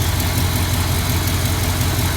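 A 1962 Ford Thunderbird engine with a freshly rebuilt carburetor idles steadily and evenly, a close, continuous low rumble with no voices.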